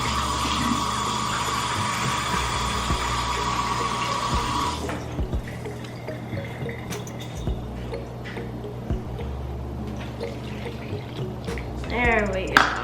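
Water poured into a bowl of dry pancake mix at home, a steady splashing trickle for the first few seconds that then gives way to quieter kitchen clatter and soft stirring sounds.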